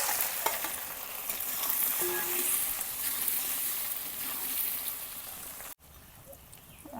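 Potatoes crackle and hiss in hot oil with panch phoron and dried red chillies, a dense, even sizzle heard up close that cuts off abruptly near the end, with no talking.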